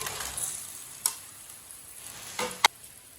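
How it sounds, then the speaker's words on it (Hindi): Fried chillies being stirred into roasted spices in a pan with the heat switched off, a faint steady sizzle broken by a few sharp clicks and scrapes of a spoon against the pan. "मिर्च को ना अच्छी तरह मिक्स कर लेंगे"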